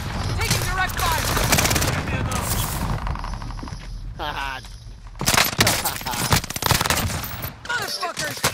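Sustained machine-gun fire and overlapping bursts from a video game war zone, loud and continuous with brief lulls, mixed with shouted voices and chatter over the shooting.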